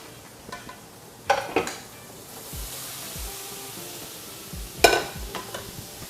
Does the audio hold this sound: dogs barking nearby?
no